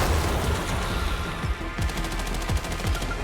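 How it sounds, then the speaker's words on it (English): Machine gun fire in Resident Evil Requiem: a steady, fast stream of close, loud shots with a few heavier thuds underneath and no talking. "Should use the machine gun that you unlocked."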